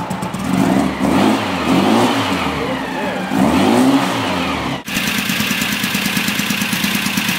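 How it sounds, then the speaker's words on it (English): A nearby car engine on an engine stand, fitted with a Kadron Solex H40/44EIS carburetor, revs up and down in rising and falling surges, then settles into a steady, rough idle. "Let me let this engine warm up, let it up a little bit, see how it sounds."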